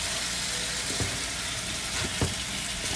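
Chicken pieces fry hard in a hot pan for cashew chicken, a dense, steady sizzle with a few soft scraping knocks of stirring breaking through.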